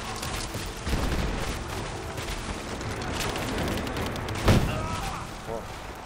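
Gunfire in the video game Rise of the Tomb Raider on Xbox One: bursts of shots and booms, one sharp loud blast near the end, with game noise and voices throughout.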